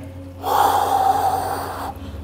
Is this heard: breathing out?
yes